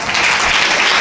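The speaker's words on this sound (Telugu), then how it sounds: "బిగ్గరగా చప్పట్లు కొడుతూ అయ్యగారికి సమయాన్ని అప్పచెప్తూ ఉన్నాం" A church congregation claps loudly and continuously to welcome the pastor, a dense, bright wash of applause filling the room.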